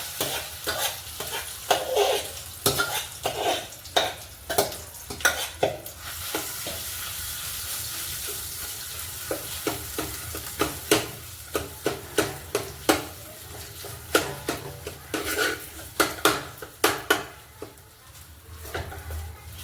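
Grated sweet potato fried in ghee in a kadhai over low heat, for a sweet potato kheer, gives a continuous sizzle broken by frequent sharp scraping knocks of a spatula stirring, close and fairly loud.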